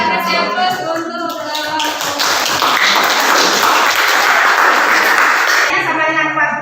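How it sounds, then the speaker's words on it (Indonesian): A roomful of people clapping for a speaker at a university teacher-training session, steady dense applause swelling loud in the middle, with talking before and after. "Ya, kita kasih aplaus untuk"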